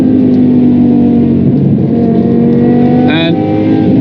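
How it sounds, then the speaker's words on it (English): A BMW M5 E61 Touring's V10 engine drones loudly at speed on the autobahn, a steady rich tone with a rise near the end, heard from inside the car alongside a talking voice. "This has to be one of the most epic sounding cars ever, right?"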